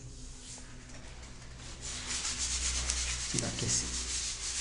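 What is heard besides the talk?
sandpaper rubbing old kitchen wall tile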